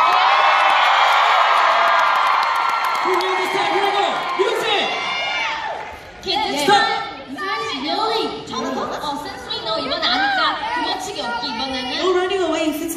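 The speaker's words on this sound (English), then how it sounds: "Round of applause." A live audience at an ITZY K-pop premiere showcase in Washington DC cheers, screams and whoops loudly and continuously, and a voice speaks over the crowd noise in the second half.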